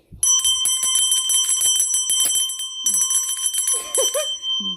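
Bicycle-style bell rung rapidly in repeated bursts, bright and close with ringing overtones, pausing briefly before a second run, with a short voiced sound at the end.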